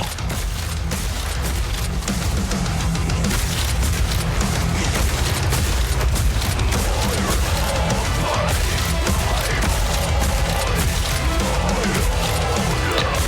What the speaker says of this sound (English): So how generous is the explosion from the crossbow?